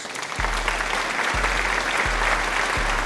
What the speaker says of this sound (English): CBS Sports, you deserve a round of applause